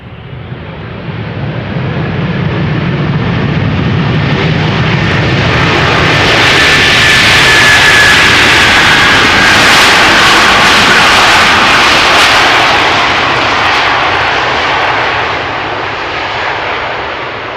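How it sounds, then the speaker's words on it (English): A Delta Airlines Airbus A330-300 arriving at Schiphol Airport roars steadily overhead, its engine noise swelling to a broad peak in the middle and then easing off as it passes. "This is Delta Airlines flight 136 arriving from Detroit, Michigan."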